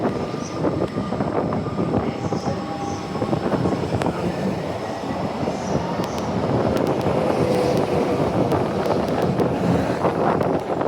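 A C-Series train rumbles past nearby, a steady loud roar of wheels and wind noise that swells slightly toward the end.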